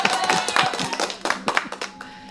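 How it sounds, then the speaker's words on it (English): Brief burst of hand clapping applause from a small group, quick irregular claps close by, with a little voice mixed in. "We're just going to give you some applause on"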